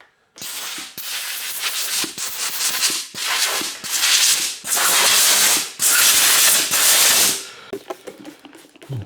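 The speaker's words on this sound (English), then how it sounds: "I'm going to use an airline to get this grit off first." Compressed air hisses in repeated bursts of a second or so, blasting years of built-up grit off a Cube hardtail bicycle, loud and close, with short gaps and faint clicks between blasts.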